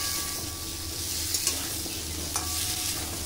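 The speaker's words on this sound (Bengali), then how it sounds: "মশলা দিয়ে খুব ভালো করে কুমড়োটা নেড়ে নেব" Pumpkin cooked with spices being stirred in a frying pan, a steady close sizzle and scraping with a couple of brief utensil knocks, no voices.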